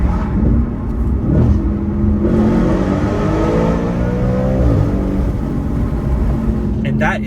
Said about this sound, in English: the high revving V8 going under a tunnel here